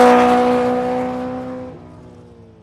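A car engine revs hard and then fades out, loud at first with a steady high drone that drops in pitch as it trails away, with no other sound over it.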